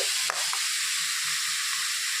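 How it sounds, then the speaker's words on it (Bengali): Cauliflower frying in hot oil for a vegetarian potato-cauliflower curry, a loud continuous close hiss and sizzle with a couple of brief stirring knocks near the start. "ফুলকপি ভাজা হয়ে গেছে"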